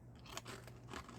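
Crunchy bites into a large garlic clove with a thick seasoned coating containing habanero and ghost pepper, heard as a short close-up burst of crackling chewing, quiet and alone.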